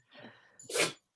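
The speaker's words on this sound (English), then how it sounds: "I guess I didn't mute myself before sneezing" A single sneeze over a Zoom call, a soft inhaling build-up followed by a sharp, loud burst, close to the microphone and then silence.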